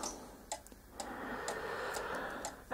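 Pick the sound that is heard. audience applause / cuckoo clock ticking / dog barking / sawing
cuckoo clock ticking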